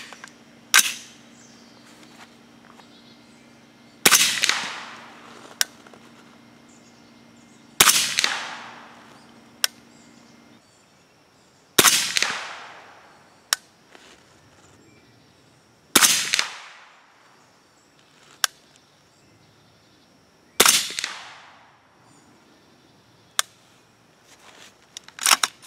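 Subsonic 300 Blackout rifle shots with 200-grain Lapua FMJBT handloads fire at the range: about seven loud, sharp reports, several seconds apart, each with a decaying tail, plus fainter clicks between them.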